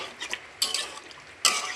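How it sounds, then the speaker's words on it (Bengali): Fish going into a pan of spiced curry and being stirred, giving a few close clattering scrapes and wet sizzling clinks in short bursts, with one sharper clang near the end; no talking. "তো এখন মাছটা দিয়ে দিচ্ছি, দিয়ে একটু নাড়িয়ে নেব।"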